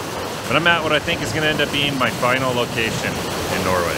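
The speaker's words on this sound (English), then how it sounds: "I'm right by the sea and a lot of waves crashing around me" Sea waves wash against the shore in Lofoten, Norway, in winter, making a steady roaring, wind-blown surf. The surf stays in the background beneath someone talking close to the microphone.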